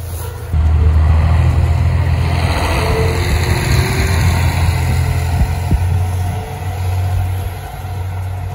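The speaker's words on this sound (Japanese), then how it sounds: "乗ってきた汽車を見送り" A diesel train rumbles low and steady as it pulls away from a snowy station in eastern Hokkaido, its heavy engine drone lasting throughout, with a faint high whine above it.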